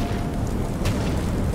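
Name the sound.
gunfire hitting the player in the video game Alien: Isolation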